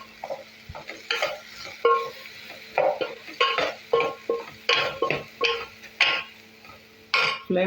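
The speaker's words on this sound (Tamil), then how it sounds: "வெங்காயம் தக்காளி பச்சை மிளகா வதங்கினோன்னே" Onion, tomato and green chili sautéing in a pan, with a close, rhythmic run of spatula stirring strokes over a soft frying sizzle, no voices.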